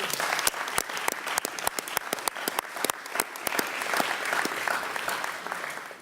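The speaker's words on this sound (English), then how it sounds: "please join me in giving a big round of applause to the whole team" A conference audience breaks into applause for the organizing team at a closing session, a dense, steady round of many hands clapping with sharp individual claps standing out, sustained throughout with no talk over it.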